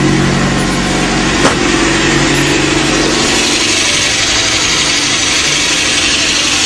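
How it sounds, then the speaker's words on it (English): An Alfa Romeo Alfa116 GTV engine idles with the choke on, a loud, close, steady rumbling drone with a rough hiss and one brief knock early on. "You can hear the choke."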